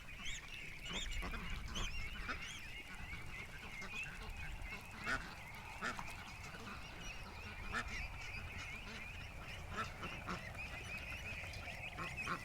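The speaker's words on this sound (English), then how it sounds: "that's the psycho duck from this morning. She's been doing this all day, just running around screaming." A distressed duck that keeps running around gives repeated harsh, honking screams outdoors, moderately close, over a steady hiss of background noise that lasts throughout.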